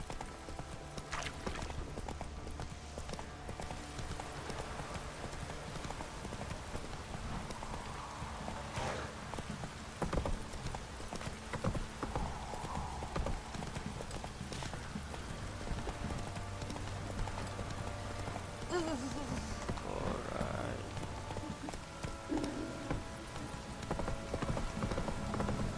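Horse hooves clip-clop steadily while riding through rain in The Witcher 3, a continuous mid-level trotting rhythm over pattering rain and low ambient music.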